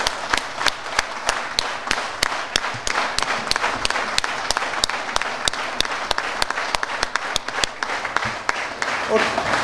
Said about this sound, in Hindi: ताली जो है वो ऐसे बजती है